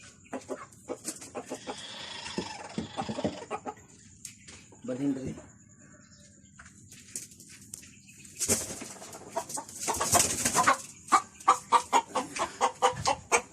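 A backyard fighting rooster gives clucks and short vocal bursts at close range, with someone talking through much of the stretch, pauses between sounds, and a loud flurry of rustling or flapping near the end.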